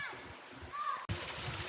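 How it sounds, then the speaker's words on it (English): Splashing water at Bells Rapids, a continuous broadband wash that grows louder partway through as a waterfall draws close, heard up near the falls with faint outdoor sounds around it. "Getting pretty close to the waterfall now."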